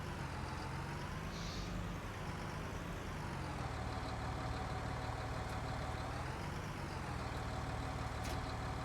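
A tractor engine in Farming Simulator 19, set on Western Australian farmland, runs at a steady drone while pulling a seed wagon, loud and continuous with no voices over it.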